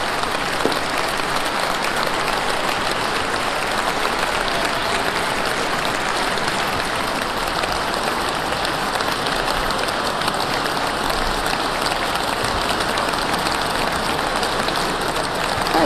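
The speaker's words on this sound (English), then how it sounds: "Got a lot of clapping for that" A large crowd at Trump's presidential inauguration speech applauds in a broad, continuous roar of clapping that holds an even level throughout, heard as if from a broadcast.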